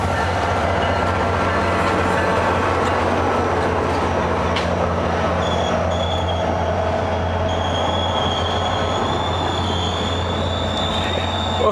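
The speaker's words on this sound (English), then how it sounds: "here comes another train going the other way" A commuter train passes in Orlando with a steady loud rumble, rolling wheel noise and faint high squeals, continuous and close throughout.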